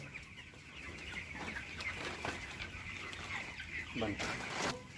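Five chickens clucking inside a sack on a weighing scale at a poultry farm, with steady nervous clucks and a few louder squawks near the end over a background hum, while someone talks in Hindi.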